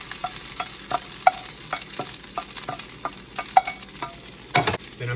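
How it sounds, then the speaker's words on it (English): Raw rice tipped into sizzling butter in a skillet for tahdig, giving a close crackling fry with repeated sharp scraping and stirring clicks and a louder burst near the end. "now that my butter is sizzling, what I'm going to do is I'm going to add all of my rice to the skillet."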